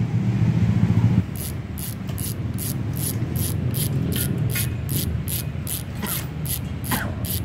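A Novatec series 7 bicycle freehub ratchet clicking rapidly like crickets, a fast even buzz of clicks that starts after a brief low rumble and continues steadily, close and clear.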